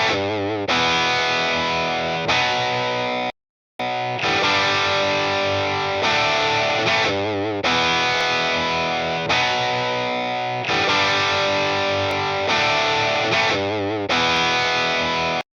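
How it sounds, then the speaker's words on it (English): Electric guitar played through a TubeScreamer pedal in high gain mode with tone and gain turned fully up, giving a loud, saturated, distorted tone of sustained chords and riffs with one brief silent gap early on. "So the plus is the high gain mode. Let's like go for high gain. It's tone all the way up, gain all the way up."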